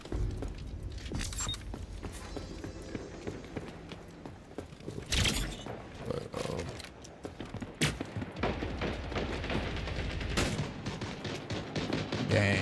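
Gunfire in the video game Splitgate 2, sharp loud shots in scattered bursts over a continuous background of game sound, with several heavier blasts standing out.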